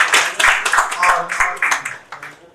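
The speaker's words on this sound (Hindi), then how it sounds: "प्रभात प्रकाशन के लिए तो तालियां बजानी पड़ेगी आपको।" An audience at a Hindi book launch for a Prabhat Prakashan title breaks into scattered hand clapping that rises and falls beneath a man's ongoing speech, close and moderately loud.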